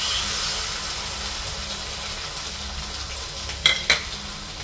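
Beaten egg fries in a pan for egg rice, a steady close sizzle and hiss with two sharp spatters or stirring clicks near the end, no talk.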